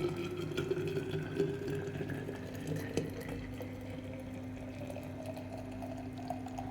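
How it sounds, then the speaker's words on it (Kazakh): Freshly boiled water pours steadily into a thermos, a continuous trickling gush with a gently rising pitch as the flask fills, heard close and alone. "Енді осы қайнаған суымызды осы термосқа құятын боламыз."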